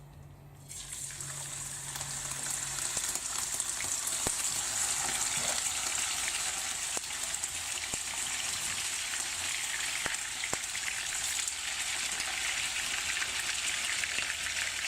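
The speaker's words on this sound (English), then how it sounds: "So I'm going to put the bacon in." Two slices of bacon fully immersed in hot lard sizzle and crackle loudly and continuously, a dense bright hiss with occasional sharp pops.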